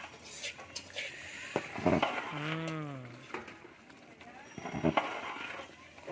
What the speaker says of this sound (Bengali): নাড়াচাড়া করে সুন্দর করে এটা মিশাতে হবে, ভালো করে মিক্স করতে হবে।